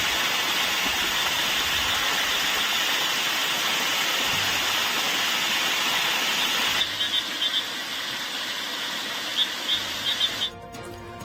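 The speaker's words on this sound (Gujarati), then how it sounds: "ફરીથી વરસાદ શરૂ થતા ધોધ સક્રિય થયો છે" The Sunsar waterfall, swollen after heavy rain, roars as a steady, dense rush of water that is loud and continuous throughout, easing slightly partway through.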